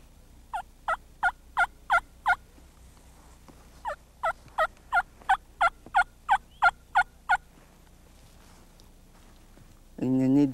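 A hunter works a turkey call, producing two runs of crisp, evenly spaced clucks imitating a hen and gobbler, close and clear, with a brief voice at the end.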